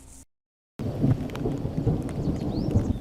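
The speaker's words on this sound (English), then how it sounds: "Thunder, lightning, heavy rain." Heavy rain pours steadily with deep rumbling thunder rolling underneath, following a brief silent gap at the start.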